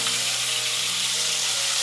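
Coarsely ground onions hiss and crackle in hot tempering oil, a steady close sizzle running for the whole moment with no voices over it.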